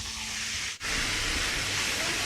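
A steady, broadband hiss of garlic frying in hot oil, loud and continuous, with one brief dip partway through.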